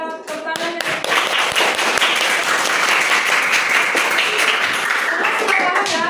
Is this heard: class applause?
yes